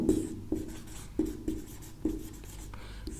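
Chalk or marker writing on a classroom board during a Class 12 chemistry lesson on solutions, heard as a series of short, distinct scratching strokes in an irregular rhythm. The strokes sound close and fairly quiet, with no talking over them.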